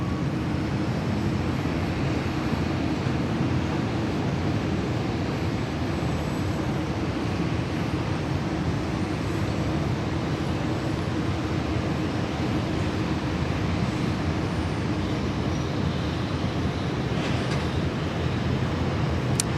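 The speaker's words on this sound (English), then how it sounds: "Lovely sounds out of the Vietjet A330. Beautiful Trent 700s." Vietjet Airbus A330 with Rolls-Royce Trent 700 engines at Sydney Airport, a steady loud low roar holding evenly throughout without letup, with no voices.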